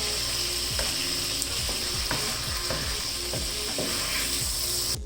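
Chicken frying in a pan being stirred, a loud constant sizzle with repeated scraping strokes of a spoon at a steady pace, close up and with no voices.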